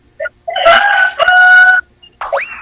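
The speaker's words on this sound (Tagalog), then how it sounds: "May manok." A nearby chicken rooster gives a loud, strained crow in two sustained bursts, then a short rising squawk follows after a brief pause. No talking is heard.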